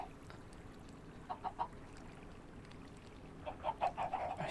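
Chickens clucking in Minecraft, a few short clustered squawks near the middle and a longer burst of quick clucks near the end, faint over a quiet background with no talk.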